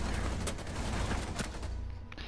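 Gunfire in a shooter video game crackles as a fairly faint, dense stream of rapid shots over a steady background din, with a few sharper reports standing out.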